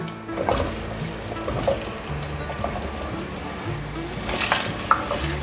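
Pumpkin pieces fry in plenty of olive oil in a far-infrared energy pot, a gentle crackling sizzle with stirring scrapes and a brief louder burst of spitting near the end.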